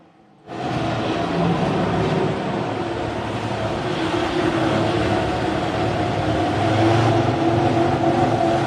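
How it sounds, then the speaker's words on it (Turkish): A Ferrari Formula 1 car with a V12 engine passes on a race track, starting abruptly as a loud, sustained engine roar that stays steady and slightly swells toward the end, heard from trackside with no talking. "İnanılmaz bir sesi var bu arada Ferrari motorunun."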